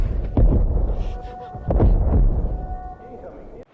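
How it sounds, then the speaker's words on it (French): A nuclear missile explosion in a video game makes two heavy, booming thuds with rumbling tails, heard close and loud, with a voice talking underneath. "Une explosion nucléaire, on est trop près."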